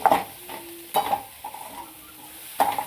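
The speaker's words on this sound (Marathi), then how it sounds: "त्यामध्ये थोडासा शेंगादाण्याचा कूट टाकू आणि चांगली अशी परतून घेऊ" Dingri (radish pods) vegetable is stirred with crushed peanuts in a frying pan: a soft sizzle under a few sharp scraping strokes of a spatula against the pan, close and with no talking.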